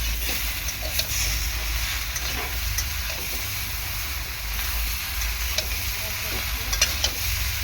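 Tomato pieces fry with a dense close sizzle for a small fish curry with green banana and potato, a constant hiss with occasional scraping stirs and utensil taps.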